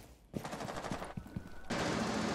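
Rapid bursts of gunfire from a video game shooter crack close and loud, a steady stream of shots with a brief shift in tone before a denser, harsher volley takes over near the end.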